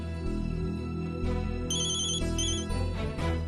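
A phone ringtone plays loudly and steadily for several seconds, a repeating electronic melody with bright tonal bursts, alone with no talk over it.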